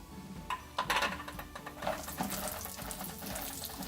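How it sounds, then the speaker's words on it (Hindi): Cashew nuts frying in oil in a pan, a soft close sizzle with clinks of a spoon against metal and a few stirring scrapes, no talk. "हमारे कैशू नट काजू ब्राउन हो चुके हैं, इनको भी फ्राई कर लेंगे।"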